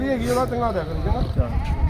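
A male goat at a livestock market bleats loudly and close by with a wavering cry, followed by rustling and shuffling noises.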